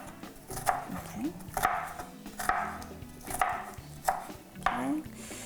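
A knife chops food finely on a cutting board, with rapid rhythmic taps in bursts of several strokes, close and clear, with no talk.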